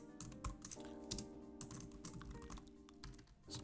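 Rapid typing on a computer keyboard, a dense run of light clicking keystrokes close to the microphone over a steady background hum, with no one speaking.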